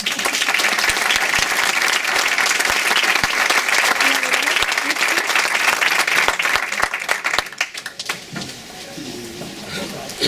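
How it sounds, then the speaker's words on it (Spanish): Audience applause for a guest speaker at a lecture, a dense, loud burst of clapping that holds steady for about seven seconds and then fades into room noise and a few voices. "recibirle como se merece con un gran aplauso"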